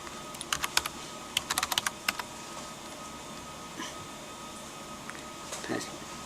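Password being typed on a computer keyboard while setting up an Azure virtual machine: two bursts of close, crisp keystrokes, with quiet room hum between and a few faint taps toward the end.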